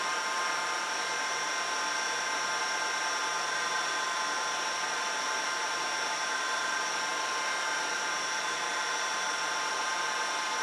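A DJI Phantom 4 drone fitted with LED propellers hovers nearby, its rotors giving a steady, even high-pitched whirr and hiss that holds unchanged throughout.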